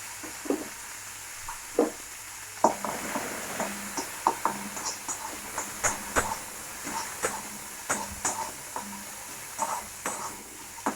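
Soaked cashews and raisins fry lightly in oil, a faint background sizzle broken by a regular series of sharp stirring clicks and scrapes against the pan.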